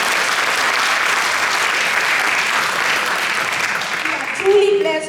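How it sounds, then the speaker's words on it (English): A concert audience at the Carolina Murugan Temple applauds a Carnatic vocalist in a full, continuous burst of clapping. A voice begins speaking as the applause fades at the end. "give her a big round of applause"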